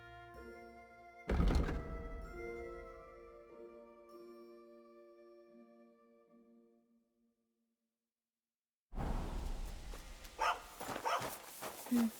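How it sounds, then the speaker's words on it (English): A dog in the medieval game Kingdom Come Deliverance 2 gives a loud bark and short yips near an inn, followed by low whimpers that fade into silence, then game noise and clatter return. "You have a kind master, eh, doggy?"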